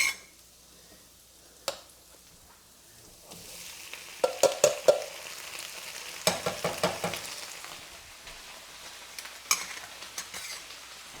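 Potatoes hit a hot pan and fry with a steady sizzle, while a utensil stirs them in several bursts of scraping and clatter. The sound is close, with no voices.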